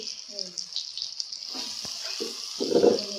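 Dried taki fish fries in a pan with onion and garlic, giving a close, steady sizzle. It grows louder toward the end, with a brief voice underneath.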